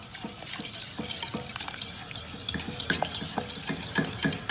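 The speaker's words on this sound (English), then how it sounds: "But you just keep whisking and cooking it in." A metal whisk beats cheese sauce in a pan, with steady rhythmic scraping and clinking against the metal close by. No one speaks.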